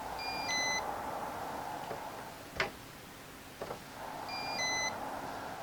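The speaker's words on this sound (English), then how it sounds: "you have what is called chime on your alarm system" A burglar alarm's door chime sounds quietly through its internal speaker: a short two-tone electronic beep pattern at the start and again near the end, with a couple of faint clicks between, over steady room hum.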